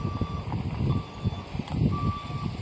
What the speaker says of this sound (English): we got a little Parks truck over here that's beeping away.